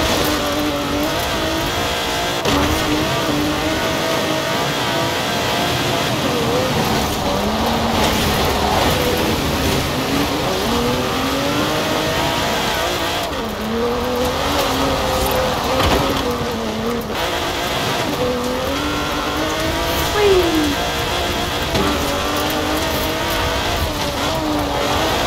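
An Alfa Romeo Stelvio Quadrifoglio SUV in the Forza Horizon 4 racing game drives off-road, its engine droning loudly and continuously with rising and falling revs and occasional tire noise throughout.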